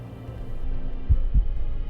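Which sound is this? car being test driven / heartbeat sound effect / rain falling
heartbeat sound effect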